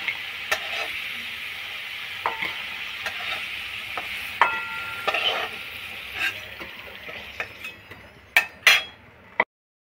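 Food sizzling and frying in a pan while a utensil stirs and scrapes, with irregular clinks and scrapes over a soft steady sizzle and louder knocks near the end.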